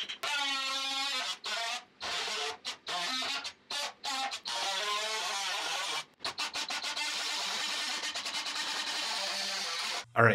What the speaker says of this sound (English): I cleaned this up with like a metal rasp here